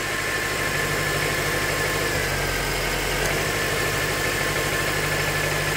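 A Honda Element engine idles with cylinder number two dead, giving a steady, uneven low rumble with a faint pulsing stumble, heard nearby and alone without talk.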